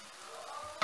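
A banana pancake frying in coconut oil in a pan, a soft steady sizzle with a brief louder crackle near the end.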